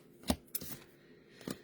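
A deck of playing cards is shuffled up close, giving a couple of quick, crisp riffling bursts separated by brief pauses.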